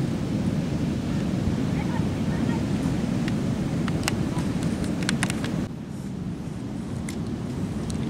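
Broad, steady surf roar of waves on a beach along the southern coast, continuous and fairly close with wind buffeting, dipping slightly in level near the end.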